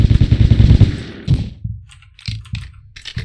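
Flashbang grenade detonating in the video game Entry Point, one sharp crack followed by a fading ringing hiss and a few quick clicking gunshot-like taps afterward.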